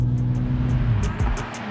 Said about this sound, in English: It downshifts with the slightest increase in throttle.